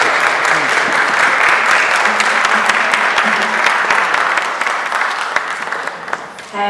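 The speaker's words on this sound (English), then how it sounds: "One more round of applause." Audience at an Ugadi festival concert gives the performing musicians a loud, sustained round of applause, with crisp individual claps standing out from the dense clapping before it tapers off.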